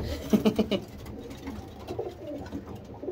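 Stock pigeons cooing inside a crowded loft, with a cluster of close, throaty coos near the start that fade into softer, scattered bird murmurs.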